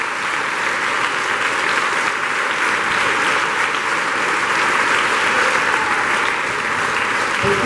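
A church congregation applauds during a sermon, giving steady, even clapping throughout, moderately loud and unbroken, with faint crowd murmur mixed in.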